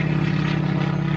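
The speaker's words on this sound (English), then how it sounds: "Noisy plane going overhead." A noisy propeller plane passes overhead near a canal, its loud, steady engine drone with a low throbbing hum filling the whole short stretch.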